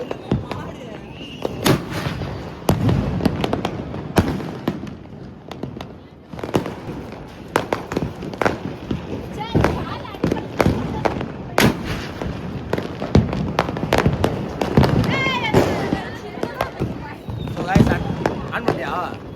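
Repeated sharp Diwali fireworks bangs and crackles burst irregularly, some with whistling streaks, while people talk and call out nearby.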